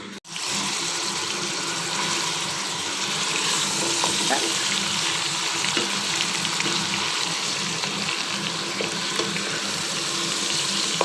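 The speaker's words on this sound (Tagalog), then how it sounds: "start na tayo mag-saute ng ating mga sahog" Chicken and ingredients sizzle steadily in a hot pan, a constant loud frying hiss with occasional soft clinks, no voices.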